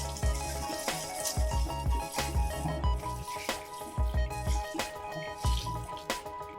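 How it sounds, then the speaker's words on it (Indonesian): Water from a gallon jug is poured over rice to rinse it, giving close, irregular splashes and drips over a steady bed of background music. "Dan ini saya menyiram berasnya dengan menggunakan air galon."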